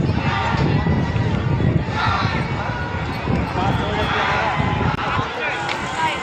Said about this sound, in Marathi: माऊली माऊली असा जल्लोष करत पूर्ण वारकरी मंडळी असल्या भरवणामध्ये किती जल्लोष साजरा करत हा घाट चढत आहेत